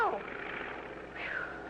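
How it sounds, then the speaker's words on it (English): A cartoon airplane drones steadily through a short passage, a thin, even engine hum with a faint rising whine near the end, moderately quiet and without talk. "We're going to thread a needle with an airplane."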